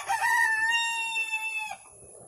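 A bantam Cochin rooster gives a single clear crow, loud and close, rising then holding a long drawn-out note before cutting off.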